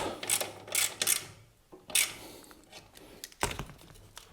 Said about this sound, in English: 13 millimeter bolt to tighten the clamp.